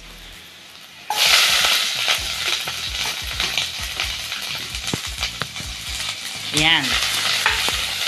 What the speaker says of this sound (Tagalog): Pag nakita natin na golden brown na yung bawang, pwede natin isunod yung ating sibuyas.